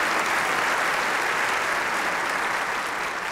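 A church audience claps loudly and steadily for a few seconds. The clapping is dense and even from start to finish, with no voices over it.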